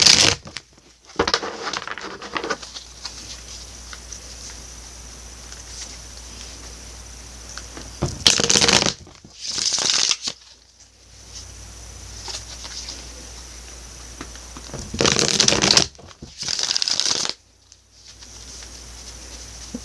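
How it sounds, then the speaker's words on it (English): Tarot cards are shuffled in short separate bursts of riffling and sliding, crisp and close, broken by long quiet pauses. "I'll go ahead and get some shuffles in for you."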